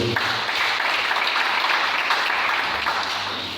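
A church congregation breaks into loud, sustained applause to acclaim the Lord, a dense wash of clapping that carries on evenly and fades slightly at the end.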